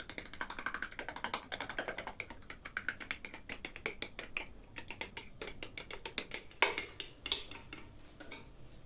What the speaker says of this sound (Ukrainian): В томатний соус додаємо майонез. І гарненько перемішуємо.